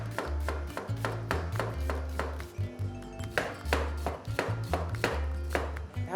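A knife chops rapidly through marinated pork on a cutting board, slicing it very thin, with a quick series of close, crisp board thuds that pause briefly midway and then resume.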